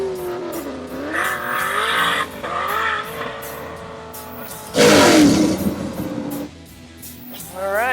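A Nissan 240SX drifting: a loud, close engine rises and falls in revving sweeps with heavy wheelspin, then a harsh, roaring burst of tire squeal partway through before the engine note drops.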